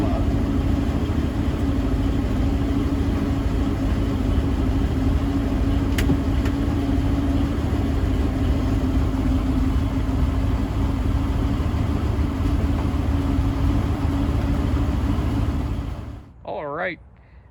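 A 1924 Packard 143 Touring engine held at a fast idle while warming up with the parking brake set, a steady loud continuous rumble that drops away abruptly near the end.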